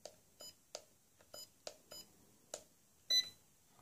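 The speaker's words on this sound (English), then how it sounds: "Go down to 50 and listen for the beep" A Hubsan X4 H107L transmitter sounds a series of short, faint electronic beeps while trims are stepped toward center, roughly seven or eight chirps at irregular intervals, ending in a slightly longer, louder tone.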